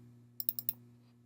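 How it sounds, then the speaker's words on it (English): Four quick, sharp clicks from a computer mouse come in a tight burst, like two rapid double clicks, over a steady low electrical hum in a quiet room. "I want to double click on this padlock"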